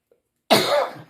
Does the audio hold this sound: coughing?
yes